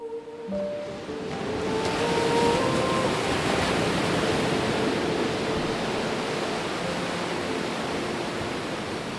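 Sea waves wash against the shore as an audio drama effect, a broad, steady roar of surf that swells in and stays loud throughout, with no talking and a few faint tones at the start.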